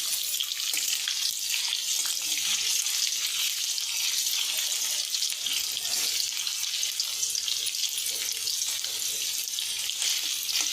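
Garlic and then ginger frying in oil in a pan for pasta, a steady dense sizzle that stays loud and even throughout with no talking.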